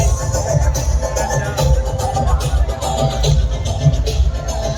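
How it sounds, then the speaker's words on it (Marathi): A huge crowd fills a Navratri raas dandiya festival in Khed taluka, Pune, as a dense, continuous roar of voices and activity with a steady low pulse beneath it, loud and unbroken throughout. "प्रचंड असा गर्दीचा ओघ पाहिला तर या ठिकाणी"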